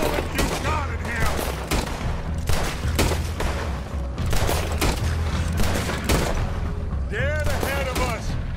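A dense fusillade of gunfire from Red Dead Redemption 2 crackles through a gunfight, with repeated sharp shots spread across the clip. Voices shout over the shooting.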